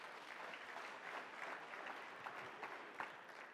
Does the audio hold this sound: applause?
yes